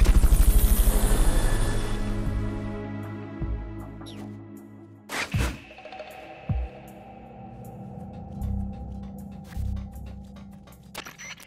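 A helicopter in the video game Metal Gear Solid Peace Walker, with a loud rotor chop at the start that fades, followed by sharp mechanical clicks and thumps over a low hum.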